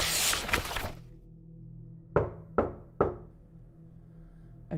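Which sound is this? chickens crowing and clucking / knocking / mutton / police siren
knocking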